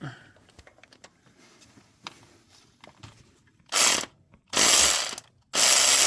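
A ratchet loosening bolts on a 2020 Hyundai Palisade: faint clicks at first, then three loud, sustained bursts of close ratcheting separated by short pauses.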